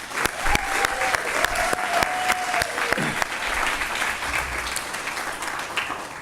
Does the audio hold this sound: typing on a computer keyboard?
no